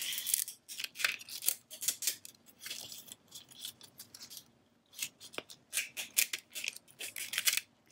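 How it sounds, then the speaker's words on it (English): A Cricut infusible ink sheet being peeled and weeded by hand, giving close, crisp crinkling and scraping bursts in an irregular rhythm with short pauses between them. "we're just gonna peel away this outside little bit"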